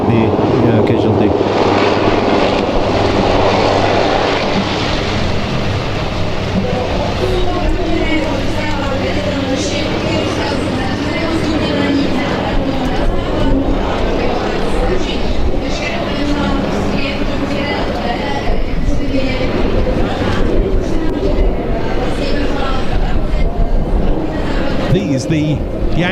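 UH-1Y Yankee and AH-1Z Zulu military helicopters take off at an air show, a continuous loud rotor and engine roar that holds steady throughout, with a commentator talking over it.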